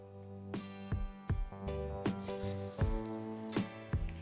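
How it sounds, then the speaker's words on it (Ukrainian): Zucchini pancake batter sizzles and crackles softly in a hot pan while utensils clink and scrape against it at irregular intervals. "виливаємо наше тісто на добре розігріту пательню"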